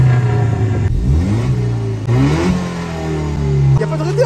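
A Peugeot RCZ R sports coupe's engine revs up and down in repeated rising and falling sweeps, loud and close, with people talking over it.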